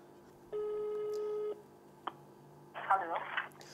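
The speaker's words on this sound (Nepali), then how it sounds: "म ओम अस्पतालमा एकचोटि फेरि फोन गर्छु" A phone call to a hospital: one single steady ringback tone, a short click, then a brief burst of a distant voice on the line.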